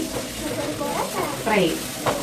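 Malabar spinach (bachhala) fry being stirred in a pan, a hiss of sizzling leaves with scraping strokes while voices talk over it close by.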